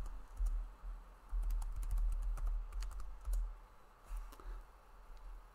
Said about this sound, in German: Geben wir auch hier wieder ein Passwort ein.